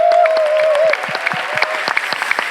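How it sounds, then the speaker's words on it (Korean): A church congregation breaks into loud, sustained applause during a worship service, with dense overlapping claps in a reverberant hall and a steady tone held beneath them. "이 시간 최고의 박수와 환호성으로 감사의 마음을 드리겠습니다."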